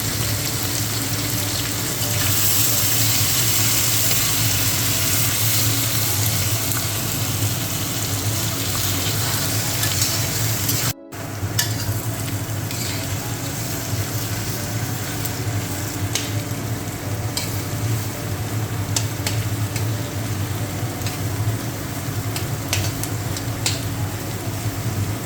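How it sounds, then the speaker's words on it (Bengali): Bay leaves, onion and garlic frying in hot oil for a mutton curry give a loud, steady sizzle with a brief break partway through and faint scraping above it. "আমি তেজপাতাগুলো দিয়ে দিচ্ছি, আর পেঁয়াজ আর রসুন দিয়ে দিচ্ছি, দিয়ে লাল লাল করে ভেজে নেব।"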